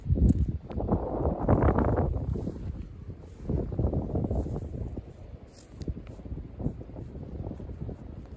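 Wind gusts outdoors in a snowy setting, buffeting the microphone in loud, rumbling bursts that rise and ease repeatedly, close and rough with no voices.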